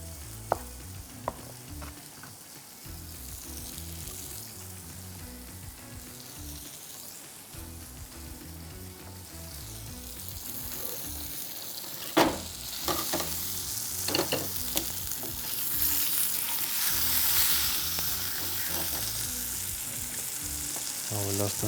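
Peppers fry in a pan with a loud, continuous sizzle and crackle, stirred now and then with scraping clatter.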